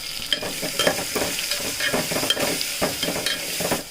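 Ginger, garlic, curry leaves and three green chilies sizzle and fry in hot oil while being stirred, with a steady crackle broken by scraping stirs, close and fairly loud with no talking.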